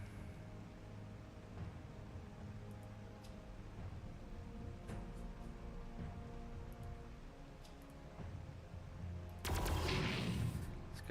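Sustained rapid gunfire in Warhammer 40K Armageddon, a dense rattling stream of shots at moderate distance over a battle din, ending in a sharper, brighter burst near the close.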